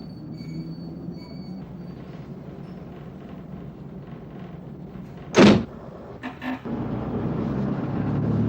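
A train pulls into Carbis Bay Station, an unmanned stop on a scenic Cornish branch line, with a steady low rumble and a sharp burst of squealing brakes or door noise midway, followed by brief clunks and rising rolling noise.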